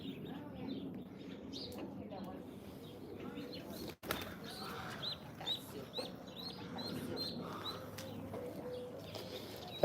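A flock of doves gathers at feeding time outdoors, with soft repeated cooing calls and bursts of wing flapping, fairly faint, while people talk nearby.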